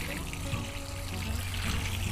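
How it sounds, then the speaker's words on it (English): Water trickles and pours steadily close by onto a potted fruit tree, a soft continuous splashing stream lasting a couple of seconds. "Now I'm gonna go ahead and water it in."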